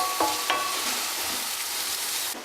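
Onions are frying in a pan as they cook down toward brown and caramelised for lamb burgers. A steady, hissing sizzle runs throughout, with a few light clinks from stirring, and no voices.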